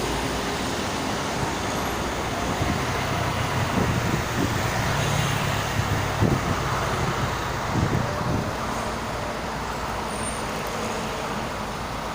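Steady broadband road noise from congested traffic on the Jakarta-Cikampek toll road, with a constant rumble and occasional low passing vehicle swells, no voices.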